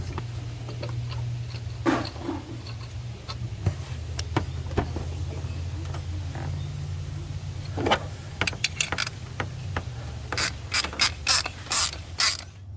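A 15mm ratchet loosens the idler pulley bolt on a Silverado 5.3L V8, with close rapid clicking bursts and metallic ticks from the wrench.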